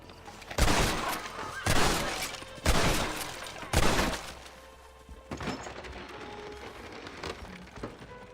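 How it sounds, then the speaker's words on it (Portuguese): Four loud gunshots ring out at roughly one-second intervals at boarded-up wooden planks in Red Dead Redemption, each a sharp blast with a short decay, followed by quieter thuds and rustling. "Vamos atirar nas tábuas"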